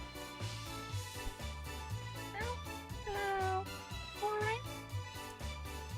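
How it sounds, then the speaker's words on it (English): Several cats in the video game Traveling Cats meow in turn, each with a distinct voice, over steady game music; the rising and falling meows cluster in the middle of the stretch. "I do like that they seem to have very distinct meows, by the way."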